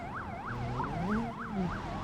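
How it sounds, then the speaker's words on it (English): Police siren in a BeamNG Drive multiplayer chase, a bubbly warbling wail rising and falling in quick regular cycles, steady and fairly loud with engine rumble beneath. "That's like a bubbly sound is the best way I can describe that siren"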